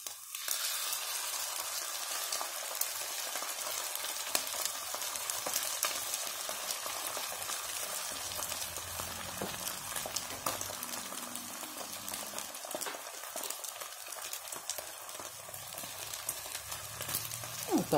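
Two lightly salted beaten eggs hit a hot frying pan and sizzle steadily and loudly throughout, a dense, even crackle close by with faint stirring, and no one speaking.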